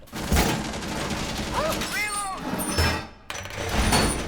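Gunfire in Rainbow Six Siege rattles in dense bursts with mechanical clatter in between, while players talk excitedly over the shooting.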